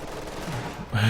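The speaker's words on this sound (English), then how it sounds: "that Ninja's MG suppresses from the rear" Machine gun suppressing fire in Company of Heroes 2 battle, a steady dense rattle of automatic fire under ongoing game noise, growing louder and closer near the end.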